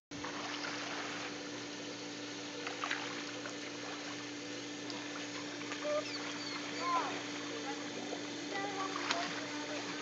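A garden water jet sprays and splashes continuously while a Rottweiler named Bogey snaps and bites at the stream, close and fairly quiet over a steady background hum, with occasional sharper splashes.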